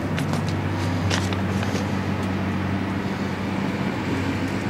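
A Cummins 3-cylinder diesel powering a Sierra PN2700 mobile baler runs with a steady, loud, low droning rumble that holds evenly throughout, with no talk.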